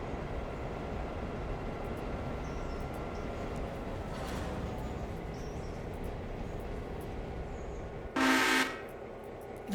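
A locomotive in the train game Railroader rumbles along steadily with a low rolling drone, then a short loud horn blast sounds near the end.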